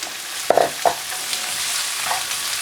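Onions tossed into a hot pan with peppers for prawn egg foo yung: a couple of quick utensil scrapes and clacks up front, followed by a steady, even sizzle.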